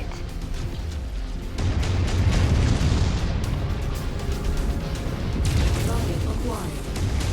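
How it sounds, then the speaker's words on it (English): A destroyed mech's reactor explodes in the MechWarrior 5: Mercenaries video game, giving a loud, sustained booming roar with crackling debris that swells and lingers for several seconds. "Target Reactor explosion imminent."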